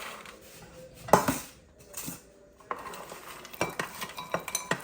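Crispy chickpeas and cauliflower rattle and scrape in a pan as they are stirred, with clinking utensil knocks and a soft sizzle between strokes.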